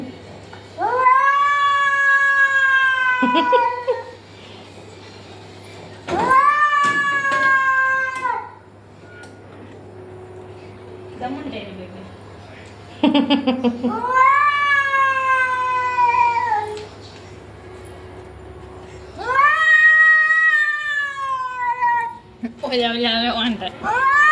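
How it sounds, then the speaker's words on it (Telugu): A cat outside meows loudly in long, drawn-out wails, four or five calls separated by pauses, with brief voices in between. "అది బయట పిల్లి"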